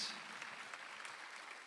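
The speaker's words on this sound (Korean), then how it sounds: "박수하세요." A church congregation claps during a Sunday afternoon worship service, a brief, soft, even patter of many hands heard from a distance.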